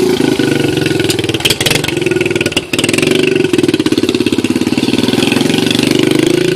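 A Kawasaki KX125 dirt bike engine runs during break-in, loud and close, with a brief dip around mid-clip before settling into a steady, rapid two-stroke idle.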